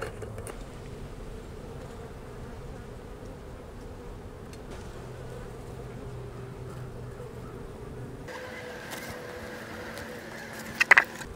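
A steady, dense hum of many honeybees buzzing close by at a hive with a robbing screen, continuous and even, with a brief clunk near the end.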